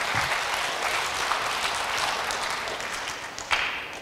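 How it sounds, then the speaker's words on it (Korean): Audience applause at an anniversary event for a Korean international club, as a guest is welcomed to the stage; steady clapping from a crowd, fairly faint and continuous for several seconds. "사랑의 박수로 모시겠습니다."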